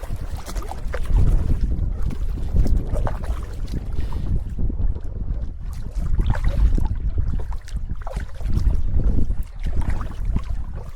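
Strong headwind buffets the microphone while a canoe is paddled across a lake in Quetico Provincial Park, a loud, continuous low roar with rising and falling gusts and faint water noise, no voices.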